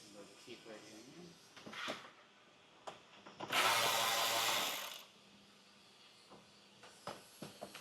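Torx screws are removed from a Mercedes Sprinter van grille with a power tool, one loud whirring burst of a few seconds among scattered clicks and handling noises, with talk around it.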